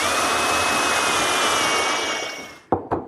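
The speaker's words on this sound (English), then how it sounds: "I'm just drilling some holes for dowel pins." A power drill bores dowel-pin holes in wood in a woodworking shop, a loud continuous whine that holds steady, then stops with two short bursts at the end.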